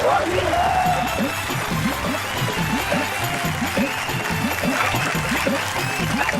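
An audience at a Hindi poetry show claps enthusiastically, a dense sustained round of applause that continues steadily without pause.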